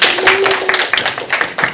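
A brief burst of applause from a high school church youth group during a worship service, quick overlapping handclaps, close and fairly loud, with a faint tone beneath.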